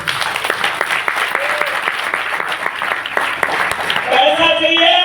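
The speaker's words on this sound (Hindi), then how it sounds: "देखा जोरदार तालियां।" An audience bursts into sustained, dense clapping, loud and continuous, with a voice speaking over the end of the applause.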